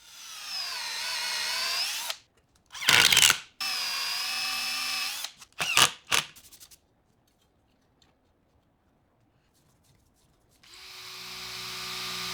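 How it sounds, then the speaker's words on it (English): Power drill driving screws to fix plywood to a ship's wheel, a few whining bursts of the motor with short stops, then a pause and one more run. "I'll use a couple of screws to fix the plywood to the wheel."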